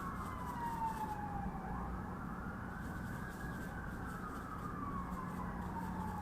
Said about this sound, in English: If you hear sirens, that is not on your end, that is on mine.